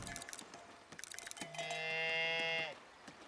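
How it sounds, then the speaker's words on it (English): Farm cows in the video game Foundation give a clear, drawn-out moo, preceded by soft scattered game clicks and ambient sounds, fairly quiet overall. "Look at them, we got some cows, guys."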